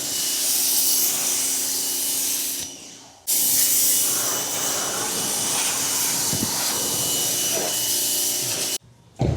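Steady loud hiss of pressurized water spraying out the door jambs of a Cadillac SUV during exterior detailing, close up, with a brief pause partway and another near the end.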